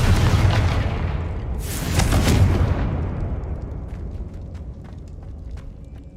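A Confringo fire spell in Hogwarts Legacy bursts with a loud booming blast, followed by a second swell of crackling impact that decays into a long, fading rumble with faint debris ticks.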